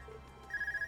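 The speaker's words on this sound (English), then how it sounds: "Is that your Arcus ringing?" An Arcus handheld communicator rings in the Trails of Cold Steel video game: an electronic ringtone begins halfway through and repeats in short, even pulses over a low, steady background.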